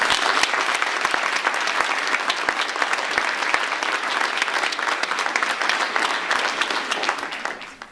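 Dense, steady clapping from an audience at a school achievement award ceremony, a full room applauding a biology award recipient, holding even for most of the stretch before cutting off abruptly at the end.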